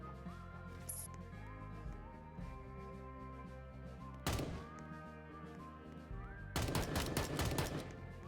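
Gunfire in the video game Bake or Die comes as a short burst midway and a dense rapid volley near the end, set against steady game music.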